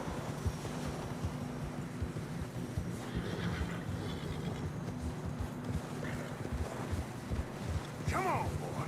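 A horse whinnies near the end over a steady bed of wind and rumbling movement, with hoof-like thuds throughout, as horses travel through fresh snow in a video game.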